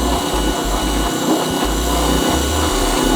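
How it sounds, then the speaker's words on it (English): A power sander grinds steadily and continuously up close as it trims down a subwoofer stealth box for a 2019 Ford Flex SEL, with a low droning motor hum under a rough, broad scraping hiss. "It's basically sanding these areas down."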